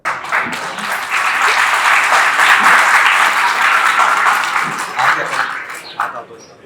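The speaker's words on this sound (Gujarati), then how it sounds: "જોરદાર તાળીથી વધાવી લેવામાં આવશે આ લોકોને" An audience at an Aam Aadmi Party rally in Gujarat claps in sustained, dense applause that builds, holds steady for several seconds, then tapers off into scattered claps.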